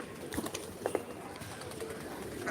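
A pigeon gives a few low, soft coos close by, short throaty notes over quiet background noise.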